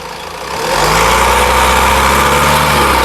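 A 2015 Honda Amaze S manual car engine idles, then is revved up to a steady loud drone, heard close and alone.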